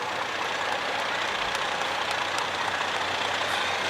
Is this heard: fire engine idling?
yes